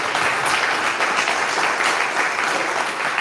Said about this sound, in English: And really, I think Jay deserves a round of applause.